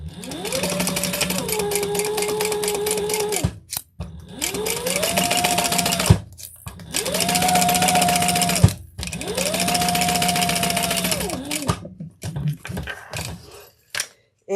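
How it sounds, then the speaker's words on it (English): A sewing machine stitches down both sides of a beach tote in four sustained runs, each rising to a steady whirring hum and then stopping, with brief handling noises between runs. "now we're going to sew down both sides"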